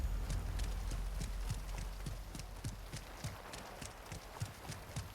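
Running footsteps in Warzone 2.0 land in a quick, even rhythm of thudding impacts, close and fairly loud over a low background rumble.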